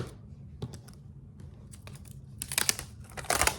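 Adhesive tape is pulled and pressed along a book spine during cover repair, giving crinkly, crackling rips and rubs that build to dense bursts near the end, close and fairly loud with no talking.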